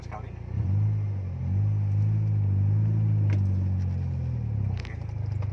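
A Mitsubishi Lancer Evo IX MR with a short-shifter 6-speed manual is put into first gear. Its engine gives a close, steady low rumble, with a few faint clicks from the shifter.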